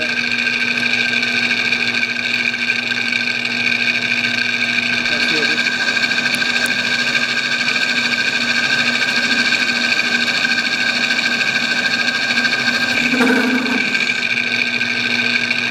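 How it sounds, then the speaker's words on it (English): A small Asian-made metal lathe runs steadily while cutting, producing a continuous whine with strong steady tones and a brief louder scrape near the end, loud and close with no talk. "My Asian lathe don't like big cuts."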